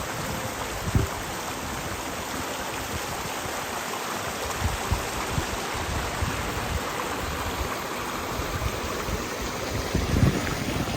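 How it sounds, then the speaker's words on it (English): A river runs steadily along the Appalachian Trail, a continuous broadband wash of flowing water heard close and alone, with a few small splashes and no talk. "Going right out here to the river."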